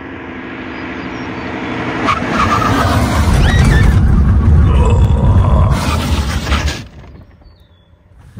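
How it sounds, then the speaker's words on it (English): A Tesla electric car brakes hard during a braking test, its tires squealing loudly for several seconds under a broad roar of road noise before the sound cuts off and fades to quiet. "I want to do a braking test to figure out how well the Tesla, as an electric car, can stop."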